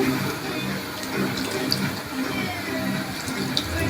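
Water is poured into a pan of cooking tomato chutney, a continuous close splashing and gurgling that lasts a few seconds with no talking.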